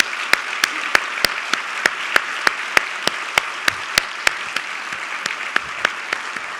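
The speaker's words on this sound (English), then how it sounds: "I'd like you to all take a moment, even stand if you wish, to applaud 3 years at the helm" An audience at a Texas Medical Center event claps in sustained applause, a broad steady wash of many hands with a few sharp, close claps standing out in a regular rhythm.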